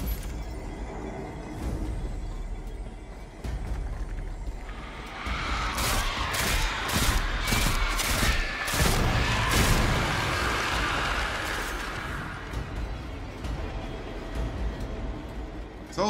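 Gunfire in the video game Destiny 2: a dark, rumbling ambient bed gives way to a loud cluster of sharp, rapid shots in the middle before fading back to low rumble, with no talking.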